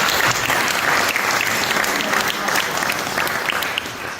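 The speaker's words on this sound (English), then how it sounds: "let's give everybody a big round of applause" Audience applause for performers at a Diwali event for the Indian community, a loud, full, sustained roar of many hands clapping that eases slightly near the end.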